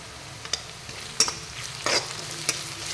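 Onions sizzling in a hot pan, with a few short bursts of stirring over a steady frying hiss; no voices.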